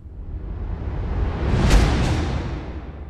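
A musical riser ending built in Unreal Engine 5 MetaSounds, a swelling noisy whoosh that builds steadily to a bright peak near the middle, then thins out and fades, with no voices.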